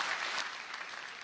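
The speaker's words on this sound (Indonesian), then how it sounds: "Tepuk tangan buat 3 finalis yang luar biasa" Audience clapping for three finalists at a comedy show, a dense steady burst of applause heard fairly faintly and alone.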